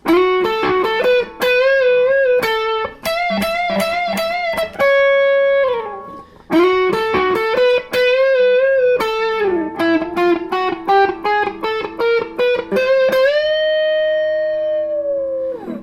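A distorted electric guitar plays a fast lead solo with quick picked runs, sustained bent notes and brief gaps, loud and upfront with no voices.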